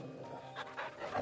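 A dog panting after being petted in the video game Final Fantasy XVI, soft rapid breathy huffs, quiet and close over a low game backdrop, with no talk.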